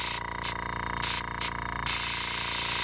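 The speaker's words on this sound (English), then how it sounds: "pull back and push, that's giving you a bigger spray pattern" A Mastercraft airbrush fed by a Canadian Tire hobby compressor sprays air with no paint loaded, a close hiss that cuts in and out in short bursts over the compressor's steady pulsing drone.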